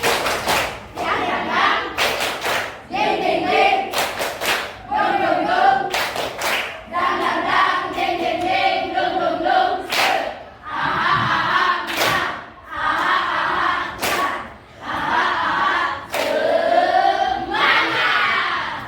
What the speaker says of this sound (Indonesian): Coba begini. Tepuk semangat.